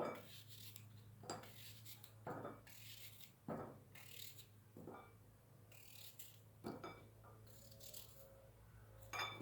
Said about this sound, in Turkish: Şimdi elmalarımı ince ince böyle bu şekilde